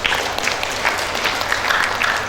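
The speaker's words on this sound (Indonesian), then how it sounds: "Tepuk tangan untuk kita semua." Applause from a graduation ceremony audience at a health sciences college, a dense, loud, steady patter of many hands clapping throughout with no voices over it.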